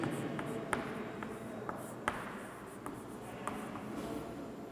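Chalk or marker writing on a board during a class 9 physics lesson, faint scratchy strokes with scattered light taps, low and steady with no talking.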